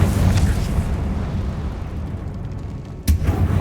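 A Confringo spell explosion in the video game Hogwarts Legacy: a sharp, loud blast bursts out near the end after a few seconds of dense, continuous rumbling noise.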